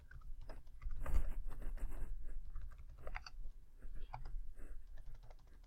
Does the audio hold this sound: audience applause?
no